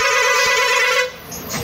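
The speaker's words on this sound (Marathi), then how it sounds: "काय हॉर्न जोरातच वाजलाय." A vehicle horn blares loudly on a road trip to Radhanagari, sounding as one steady, close blast for about a second before dropping away into quieter road noise.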